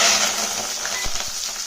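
Bay leaf, cinnamon stick, cloves and a cardamom pod sizzle steadily in hot oil for mango chicken, with a few soft stirring knocks near the end.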